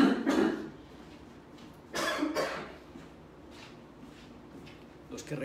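Two short, rough coughs stand out against a quiet room, one at the start and another a couple of seconds later, followed by faint shuffling.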